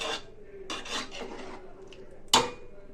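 A spoon scrapes and rubs around a pan as tamarind water is stirred into prawn curry, in several short rasping strokes with a sharper knock near the end, close and quiet, without talk.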